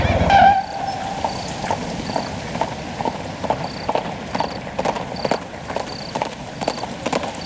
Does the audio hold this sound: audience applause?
no